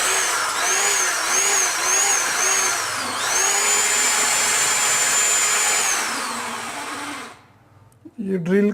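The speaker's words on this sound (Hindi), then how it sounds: "ये ड्रिल करके इसमें सुराख" Power drill boring a hole into a block of wood for a handmade pencil sharpener, a loud steady whine that dips briefly and runs for about seven seconds, then stops with a short thump.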